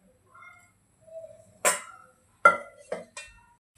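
A metal pan is set down on a kitchen stove to heat oil for tempering, giving a few sharp, close clanks and clinks spaced over a few seconds in an otherwise quiet room.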